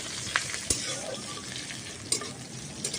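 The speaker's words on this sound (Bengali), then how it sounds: "এটাকে এবার আমি হালকা ভাজা করে নেব আর কারি পাতাটা দেওয়ার পরে খুব সুন্দর একটা গন্ধ বেরিয়েছে" Curry leaves fry lightly in a pan for flattened-rice (poha) pulao, giving a steady soft sizzle broken by a few sharp spatters and pops.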